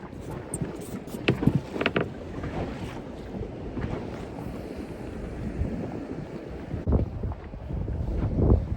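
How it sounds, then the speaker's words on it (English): Gusty southwest wind buffets the microphone at sea over the rush of water and boat noise, with rumbling bursts coming and going. "Southwest wind, low gusts."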